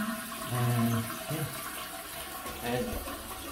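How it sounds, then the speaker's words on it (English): A toilet flushes just after a Fluidmaster fill valve repair. The water rushes and swirls steadily at close range, swelling briefly twice, with no talk. "so you flush."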